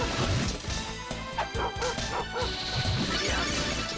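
Summoned dogs in Castlevania Dawn of Sorrow bark repeatedly in quick bursts, mixed with crashing game effects and background music, fairly loud throughout.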